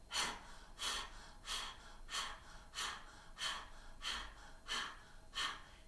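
Rapid Breath of Fire breathing exercise, panted like a dog: about nine strong, evenly spaced breath bursts roughly every 0.6 seconds, close and breathy with the exhale emphasized, no talking.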